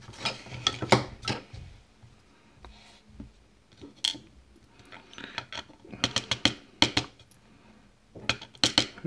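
Small metal key pins from a Stabilit euro cylinder lock being handled, giving a series of sharp, close clicks and light metallic ticks in irregular bursts, with no talking.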